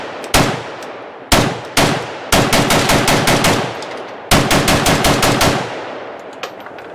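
Zastava ZPAP M72 RPK-pattern rifle firing 7.62x39 on an outdoor range: two loud single shots, then two rapid strings of shots with sharp cracks and echo tails, ending in faint ringing.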